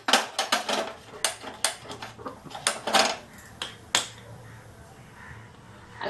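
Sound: gas stove being switched on

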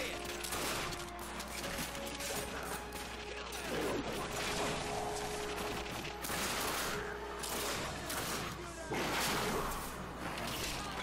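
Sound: gunfire in the video game The Darkness II

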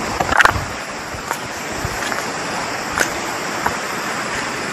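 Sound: river water flowing by the Muara river bank

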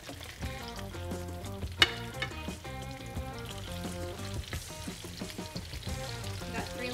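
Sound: mudfish cutlets frying in a pan

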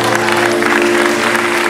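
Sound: wedding guests applauding

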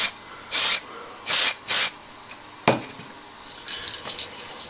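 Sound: spray paint can being sprayed

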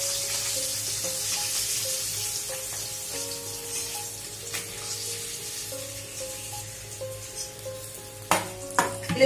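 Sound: frying hilsa fish in oil

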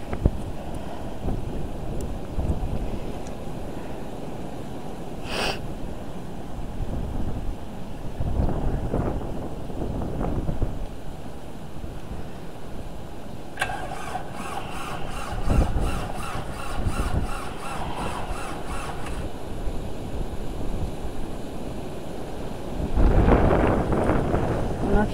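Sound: loud blizzard wind

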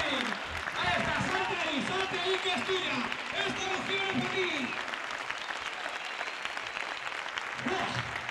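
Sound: ovation from bullring crowd

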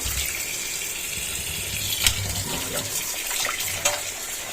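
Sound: washing fish with water

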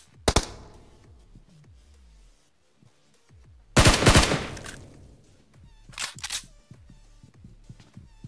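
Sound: gunfire in the video game BGMI / PUBG Mobile

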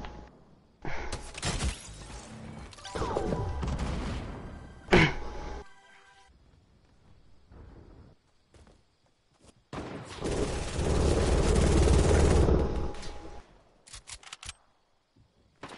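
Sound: gunfire in a shooter video game

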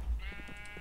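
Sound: sheep bleating in the video game Minecraft

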